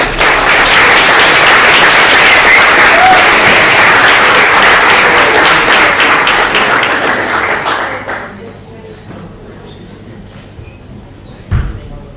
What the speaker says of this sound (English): Please give her a hand of applause.